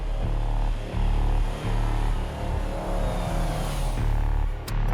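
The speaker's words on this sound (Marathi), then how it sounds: "श्री, गाडी थांबव प्लीज." A car drives steadily with a continuous engine drone that swells and dips, loud and close throughout, with no talk over it.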